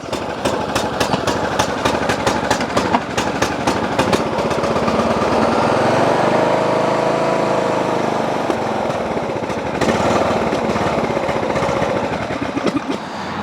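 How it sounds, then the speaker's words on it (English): A 20 HP Briggs engine on an Ariens lawn tractor running on choke, a loud continuous engine drone that rises and falls in waves as it surges, with rapid rattling pulses near the start. "We're just running this on choke. Because you know it surges anyway, right?"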